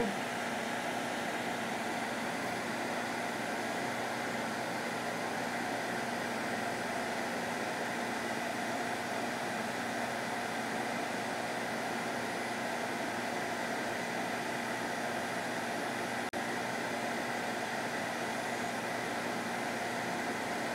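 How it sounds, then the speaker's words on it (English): A dust vacuum runs steadily during a Shaper Origin router cut, giving a continuous, even broadband whir that holds at one level throughout with no talking over it. "So we'll power up the vacuum and continue."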